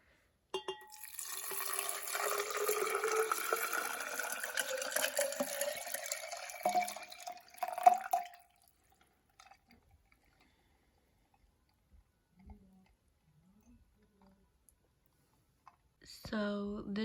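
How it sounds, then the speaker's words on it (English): Water pours steadily into a vase for about seven seconds, the tone climbing as the vessel fills, then stops and leaves near silence with a few small knocks. "we're gonna start filling it up with water"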